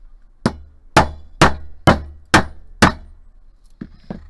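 A hammer strikes a steel punch through a metal disc cutter six times in a steady rhythm, each blow a loud, sharp close-up metallic bang with a short ring, followed by two lighter taps.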